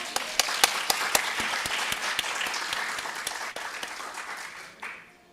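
Audience applause at an arts entrepreneurship event, a sustained wash of many hands clapping with sharp individual claps standing out, fading away near the end.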